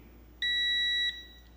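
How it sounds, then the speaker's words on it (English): A smart multimeter volt tester gives a single steady continuity beep when its probes touch, a clear electronic tone lasting under a second before cutting off. "and you hear it automatically just beep"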